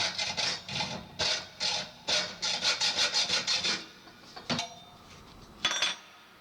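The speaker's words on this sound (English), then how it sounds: "So I am just going to use a hacksaw." A hacksaw cuts through small copper pipe in a quick series of rhythmic rasping strokes, near and fairly loud, before pausing and finishing with a few scattered scrapes.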